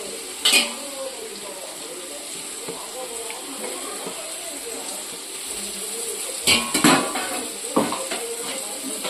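Biryani masala sautés in a pot for chicken biryani, a low, steady sizzle with clattering spoon-on-metal strikes near the start and in a cluster toward the end.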